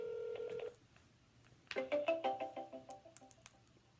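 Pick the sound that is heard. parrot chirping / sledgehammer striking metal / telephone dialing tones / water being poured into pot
telephone dialing tones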